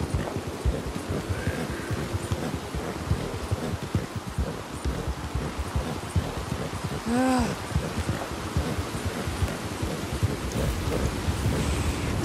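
A thunderstorm in the video game Red Dead Redemption 2 brings steady heavy rain with rumbling thunder rolling throughout, one sharper crack midway.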